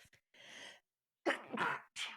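A single close sneeze with a sharp intake of breath beforehand, followed by a short cough-like burst.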